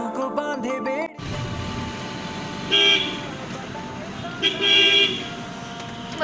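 Car horns honk in two loud bursts amid street traffic, with people talking over the noise between them.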